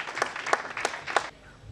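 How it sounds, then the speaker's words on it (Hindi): Brief applause greets a speaker at the 32nd International Congress of NRIs: a handful of strong clapping surges from an audience, close and lively, dying off abruptly after about a second. "तालियां बजा करके एक बार उनका अभिनंदन करें।"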